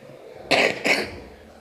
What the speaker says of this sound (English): also has a nasty cough and his breathing appears slightly labored